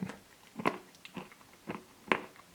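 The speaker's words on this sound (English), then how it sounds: "there we have a peanut piece, which is nice and crunchy" Crunchy peanut pieces in Häagen-Dazs Peanut Butter Crunch ice cream are bitten and chewed close up, making soft irregular crunches. Two sharper bites stand out, and no one speaks.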